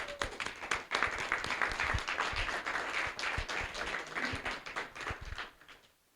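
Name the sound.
applause for the panelists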